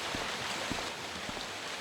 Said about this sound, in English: very loud waterfall is. Water is running from the upper water passage.